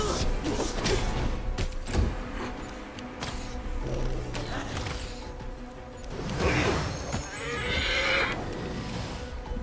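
A horse whinnies loudly in the fantasy role-playing game Pathfinder: Wrath of the Righteous, with a sharp neigh near the start and another long one later, over hooves, clattering combat and game sounds.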